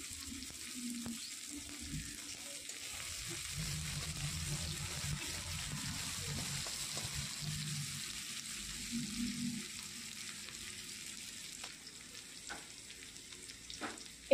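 Capsicum frying in a pan makes a soft, steady sizzle with low bubbling and occasional stirring clicks, fairly faint and continuous, ending with a sharp knock.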